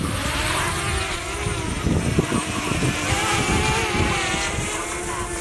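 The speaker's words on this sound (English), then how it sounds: "I'm going to hit the takeoff. I'm going to hold it down till it takes off" DJI Mavic Mini drone lifting off nearby, giving a high, whining buzz of small propellers that hums steadily with slight wavering in pitch and a fluttering low rumble as it rises.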